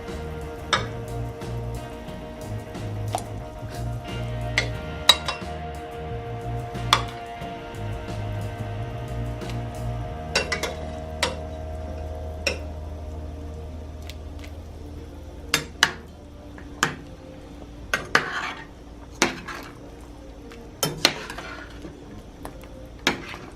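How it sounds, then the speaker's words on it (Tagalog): Chicken soup stirred in a cooking pot, a spoon or ladle clinking and scraping against the sides in scattered sharp taps over a low simmering hiss, fairly close and without talk. "Tapos hahaluin lang po."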